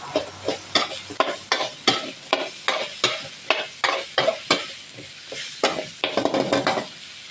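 Chili paste stir-fried for a chicken dish, with rhythmic, closely spaced spatula scrapes against the pan over a continuous sizzle, about a dozen strokes that quicken toward the end.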